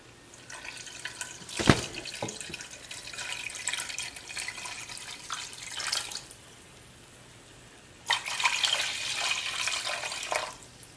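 Running water pours into a cooking pot in two bursts, a short splash near the start then a longer steady stream later, with quieter trickling between.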